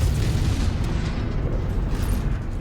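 Heavy AC-5 burst-fire autocannon shots in MechWarrior 5 Mercenaries, from an Annihilator mech, form a dense, continuous low rumble of booming blasts that runs loud and unbroken throughout.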